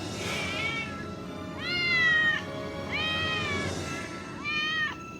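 Four drawn-out cat meows come one after another at a steady pace, loud and close, over a continuous low background hum.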